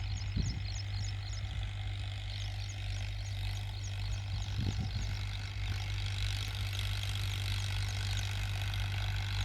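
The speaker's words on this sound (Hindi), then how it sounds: "ट्रैक्टर दाब के ला रहा है ड्राइवर।" A Farmtrac 60 tractor engine runs in a field with a steady low rumble and a couple of brief revs, its drone continuous and moderately close over nearly ten seconds.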